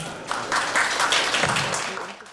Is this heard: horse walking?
no